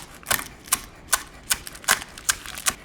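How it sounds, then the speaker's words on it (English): A knife chops folded sheets of nori into thin strips, giving about nine crisp, evenly spaced taps on a cutting board, close and clear, with no speech. "And just really thinly chop it."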